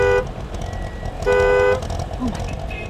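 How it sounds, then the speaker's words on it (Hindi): A car horn blares in two loud, sustained honks, the second longer, in a busy street scene from a Bollywood comedy film, with traffic noise and a brief voice between them. "हॉर्न मारो।"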